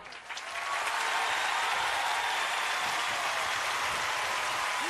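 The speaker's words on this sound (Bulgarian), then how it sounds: "Аплодисменти, дами и господа!" Studio audience at an impersonation show breaks into loud, sustained applause, a dense wash of clapping that swells quickly and holds steady.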